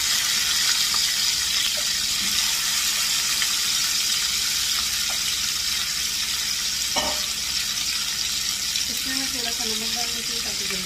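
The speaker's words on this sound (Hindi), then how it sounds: "तो अब मैं कैप्सिकम को फ्राई करूंगी" Capsicum fries in a pan as a steady, fairly loud sizzle hisses throughout, with a few faint clinks and a brief soft voice near the end.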